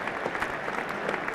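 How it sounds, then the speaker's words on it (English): A cricket crowd applauds at a NatWest Trophy final, a brief wash of dense, distant-sounding clapping that stays even and fairly soft throughout. "So applause both for Randall and Lever"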